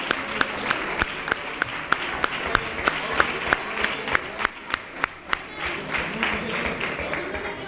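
A crowd applauding at a Three Kings proclamation event in Nerva, steady clapping with one strong rhythmic clap standing out at an even beat, some cheering and voices mixed in, tapering toward the end.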